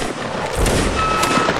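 An infantry line in Mount & Blade: Napoleonic Wars fires a musket volley, a ragged burst of overlapping sharp cracks over battlefield noise, fairly loud and close.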